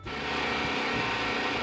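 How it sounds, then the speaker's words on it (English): A power drill whirs steadily at high speed for a couple of seconds, close and fairly loud, starting abruptly with no talking. "drilling the last hole here to mount this up"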